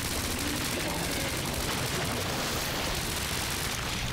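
Rapid gunfire from the survival horror video game Resident Evil 2 Remake, a dense, continuous burst of shots packed close together across the whole moment, loud and harsh with no pauses.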